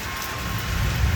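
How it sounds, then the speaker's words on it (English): Steady rain falls outdoors in cool weather, a continuous soft hiss with low patter building slightly louder toward the end, no voices over it. "It's raining."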